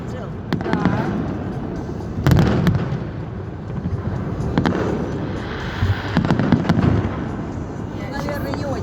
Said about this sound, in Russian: Какой каждый раз какой-то новый салют.